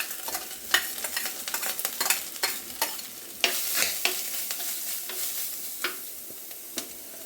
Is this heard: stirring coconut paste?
yes